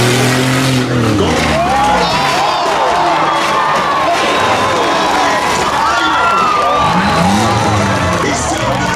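A demolition derby car at Beech Ridge revs hard and loud, its engine droning continuously alongside tire noise and a roaring crowd, up close.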